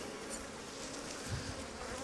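Honeybees buzzing around an open Flow Hive during a hive split, a faint continuous hum with a passing bee briefly louder and nearer, no talk.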